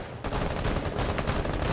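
Rapid gunfire bursts in a ranked video-game match, a dense, loud, sustained crackle of shots with no talk over it.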